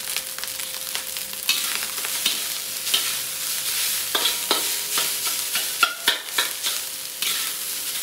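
Garlic fried rice being stir-fried in a pan, with a steady sizzle broken by repeated scraping and tossing strokes of the spatula, close and loud with no voices.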